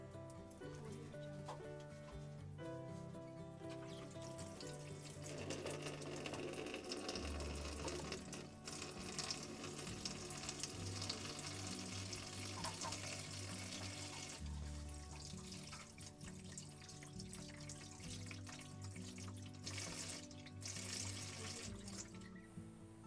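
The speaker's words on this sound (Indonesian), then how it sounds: "boleh izinkan saya cuci tangan sebentar ya mbak" Running water from a tap splashes steadily as hands are washed during a physical examination of a teenager, a continuous close wash lasting the whole stretch with no talk over it.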